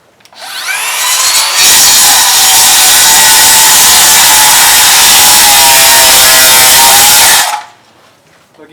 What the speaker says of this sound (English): So I'm going to just cut these with the skill saw freehand.